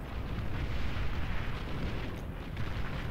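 Continuous rumbling barrage of artillery fire from the real-time strategy game Beyond All Reason, dense booms and blasts merging into a steady loud roar with no talking.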